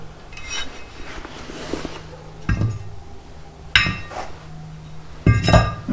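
The rear brake rotor is removed from a 2003 Honda Accord with a few sharp metallic knocks and clinks spaced a second or so apart, over quiet shop ambience and close to the work.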